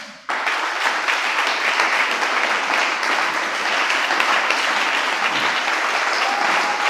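A church congregation breaks into sustained, loud applause that starts abruptly and holds steady as a dense wash of clapping throughout.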